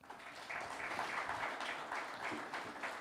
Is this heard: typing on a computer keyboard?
no